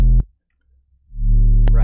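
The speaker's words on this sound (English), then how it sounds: "this big like 808 monster sub hits," Deep booming sub bass hits swell and decay, a heavy low 808-style thump with a short silent gap between two loud notes.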